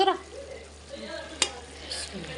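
Ingredients for maqluba hit hot oil with a soft sizzle and stirring, a quiet frying hiss with a sharp clink partway through and faint voices in the background.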